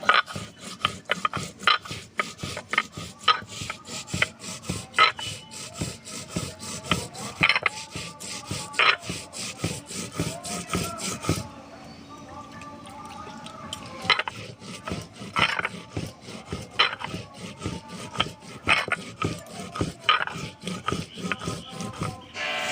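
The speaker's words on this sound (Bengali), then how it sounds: "আমি রাঁধুনিটা বেটে নেব" Radhuni seeds being ground on a stone slab in a Bengali village kitchen while cooking taro leaf greens: a steady run of rhythmic rasping rubs, close and fairly loud, pausing briefly midway before the scraping strokes resume.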